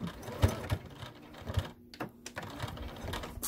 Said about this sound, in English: sew from the corner all the way down and around again.